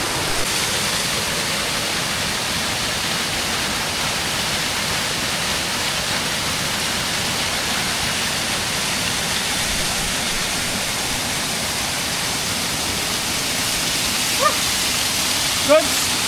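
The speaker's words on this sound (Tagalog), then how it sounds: "Narating natin ulit itong Kagbuanga Waterfalls." Cagbuanga waterfall near El Nido, Palawan, roars as a steady broadband rush of falling water, constant and loud throughout, with a couple of faint brief knocks near the end.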